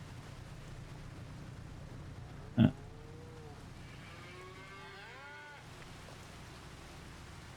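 Cows in the Farming Simulator 25 game lowing in a few drawn-out moos, fairly quiet over a low steady background hum, with one sharp thud partway through.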